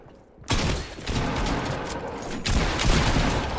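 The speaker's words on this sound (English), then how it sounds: "I was shooting decoys" Bursts of gunfire in a Fortnite match, dense rapid shots starting abruptly and continuing loud and close with a heavier volley near the end, no voices over it.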